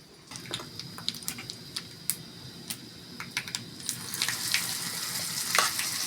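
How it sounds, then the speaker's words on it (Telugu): Crackling pops of a hot tempering, then a sudden louder hiss and sizzle as a wet ground sesame and drumstick-leaf chutney hits the oil, continuing up close. "లాస్ట్ మనం మిక్సీ పట్టుకున్న పచ్చడి ఈ పోపులో యాడ్ చేసుకోవాలండి"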